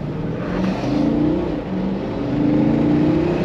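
A 2020 Jeep Grand Cherokee SRT with a 6.4L V8 pulls hard under acceleration, its engine roaring loud and close from inside the cabin, the pitch climbing steadily with a brief dip before rising again.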